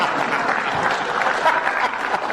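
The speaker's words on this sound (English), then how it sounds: "I like the applause for drugs" Steady audience applause with a few whistles or shouts rising in it, filling a hall during a comics panel discussion of Marvel cosmic stories, even and sustained throughout.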